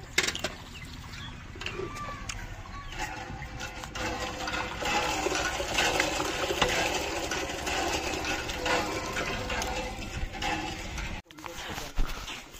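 Warm borewell water gushes steadily from a village pipe while greens are washed, a loud, close, continuous rush with splashing and faint voices underneath, briefly breaking off near the end.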